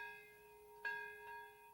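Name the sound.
Nagasaki memorial bells ringing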